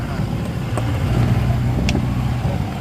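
Off-road Jeep CJ500 engine running steadily up close as the accelerator is lightly pumped, a loud low rumble with slight swells, a few faint clicks above it.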